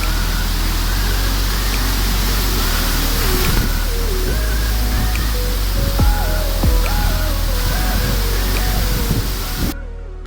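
A waterfall in the middle of a dense forest roars as a continuous, loud broadband rush of falling water, steady throughout, with faint higher whistling tones layered over it; no one speaks.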